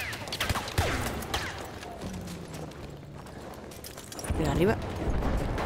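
Scattered gunfire in the Battlefield 1 video game, a few sharp cracks heard beneath frequent voice chat between players.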